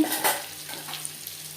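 Eggs fry in hot oil until reddish-brown for an egg curry, giving a steady close sizzle with a couple of brief spatters and scrapes of stirring.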